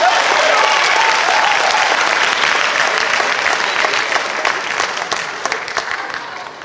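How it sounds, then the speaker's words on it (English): An audience at a motivational talk breaks into loud, dense applause, a sustained wash of clapping that holds steady and then gradually thins toward the end. "Give yourself a round of applause."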